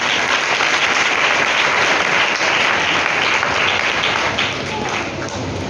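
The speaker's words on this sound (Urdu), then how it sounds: "اوکے، ویری گڈ، ذرا تالی بجائیے۔" Church congregation clapping together at a sermon, dense steady applause from many hands filling the room for the whole stretch at even loudness.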